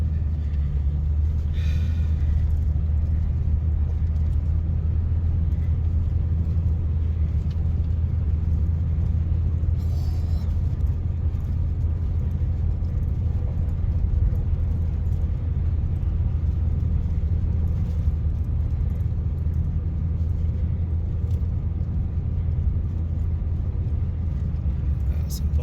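A truck creeps slowly over a bumpy bare-gravel forest road in a West Virginia national forest, its engine rumbling low and steady throughout while people talk in the cab.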